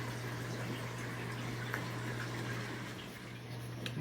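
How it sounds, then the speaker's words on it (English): Water runs steadily into a pond filter barrel outdoors, a constant splashing wash with a low steady hum beneath, continuous and moderately close throughout with no talking. "we're gonna go ahead and put water in it and let it run"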